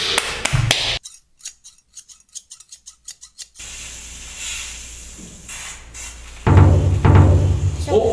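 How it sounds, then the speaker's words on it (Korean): Scissors snipping close to the microphone in an ASMR guessing quiz: a quick rhythmic series of crisp, sharp cuts, with louder voices and noise before and after. "가위 소리"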